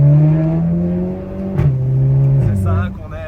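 A Volkswagen Golf 7 GTI Performance engine revs loudly and close by, a strong droning tone that climbs, dips briefly and climbs again before falling away. People talk over it.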